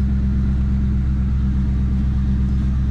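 A 1999-2004 Ford Mustang running a BAMA tune with no catalytic converters settles into a deep, loud, steady exhaust rumble just after startup, close and continuous throughout.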